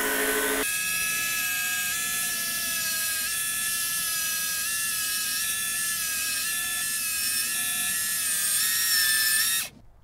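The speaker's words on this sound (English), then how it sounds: "So I'm sanding once here and then turning it and sanding again." A steady, high-pitched power sander whines continuously at close range on an epoxy resin edge, holding an even tone with slight pitch wobbles before cutting off abruptly at the end.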